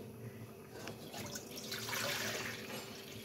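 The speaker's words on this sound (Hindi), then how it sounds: "और इसके अंदर डालेंगे पानी।" Water poured into a cooking pan in a home kitchen while making a crispy potato snack, a quiet, steady splashing stream that swells louder toward the middle and runs for a few seconds.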